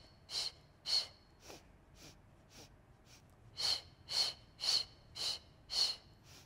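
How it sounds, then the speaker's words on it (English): Rhythmic, breathy exhalations puffed out in a steady series during the Pilates hundred exercise, a few softer breaths in the middle and then five strong sharp bursts in a row, close and with no talking. "in breath, exhale"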